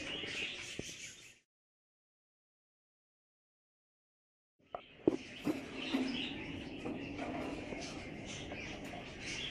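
Budgerigars chirp and tweet softly in a breeding setup, a brief burst at the start, then a silent gap, then a steadier stretch of chatter with faint background noise.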